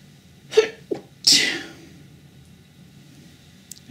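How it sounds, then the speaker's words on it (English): A single sharp sneeze, preceded by a short indrawn breath, rings out close against a quiet room, followed by near silence. "I had to sneeze."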